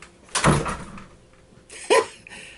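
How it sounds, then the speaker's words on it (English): A household door is shut twice, with a fairly loud thud near the start and a second shorter knock about a second and a half later, in a quiet indoor room. "shut the fridge. Shut my door."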